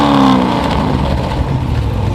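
A Corvette C7 engine with American Racing long-tube headers and the factory MPP exhaust revs close by, a loud, deep rumble that climbs in pitch and then settles into a throbbing idle.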